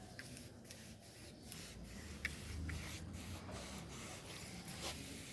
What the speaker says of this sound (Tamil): நம்ம ஸ்ப்ரே பண்ணுவோம்